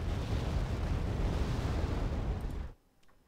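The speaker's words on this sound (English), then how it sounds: "Now he's once again coming in with airstrikes." Airstrike explosions in the real-time strategy game Wargame Red Dragon form a heavy, continuous roaring rumble of blasts that cuts off abruptly into near silence.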